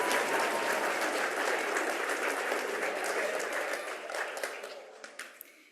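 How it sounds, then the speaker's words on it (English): A school event audience at an annual Green Schools awards ceremony gives a round of applause, dense clapping that holds steady and then thins out and fades to scattered claps at the end. "Let's give a round of applause."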